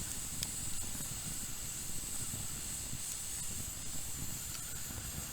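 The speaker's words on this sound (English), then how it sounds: "Waiting for my coffee water to boil." Water heats toward a boil for coffee on a camp stove during a February winter camp in snowy Sweden, a steady close hiss and roar of burner and pot running evenly without talk.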